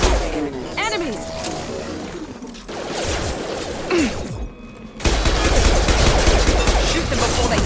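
Gunfire and combat noise in the video game Mass Effect 2, with swooping effects and crashes giving way to a dense, loud barrage of shots in the final seconds, under bits of talk.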